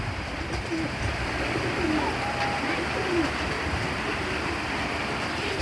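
Pigeons coo softly several times against a constant low background hum, with short, repeated throaty calls scattered throughout.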